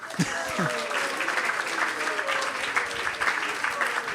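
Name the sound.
audience applause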